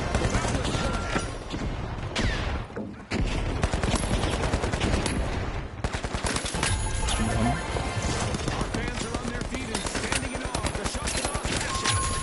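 A frag grenade is thrown during a ranked first-person shooter match, with dense, continuous gunfire and combat noise loud throughout, a brief dip near three seconds, and people talking over it.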